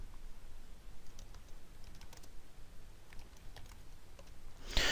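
Keystrokes on a computer keyboard while a folder is renamed, a quiet, irregular run of light clicks alone in a hushed room, ending with a louder bump.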